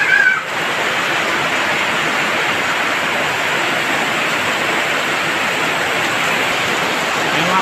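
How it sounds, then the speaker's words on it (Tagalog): Heavy rain during the rainy season pours down as a dense, constant roaring hiss that stays loud and unbroken throughout. "Lakas na ulan"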